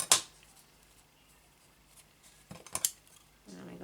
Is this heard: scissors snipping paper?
yes